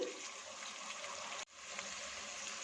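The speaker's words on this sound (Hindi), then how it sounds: "2-3 टेबलस्पून पानी इसमें मज़ीद डालेंगे।" Water gushes steadily into a pan of cooking green beans and potatoes, a continuous pour with a brief break partway through.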